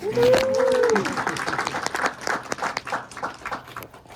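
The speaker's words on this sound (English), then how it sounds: "Round of applause, everybody." A small group at a college information session claps briefly for an accepted graphic design student, a short uneven burst of applause that fades quickly amid a few voices and room noise.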